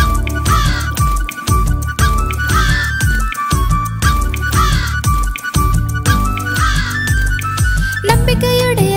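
A crow caws amid a bright, busy Tamil children's nursery song, the repeated calls woven into a loud, rhythmic musical backing with whistle-like melodic lines throughout.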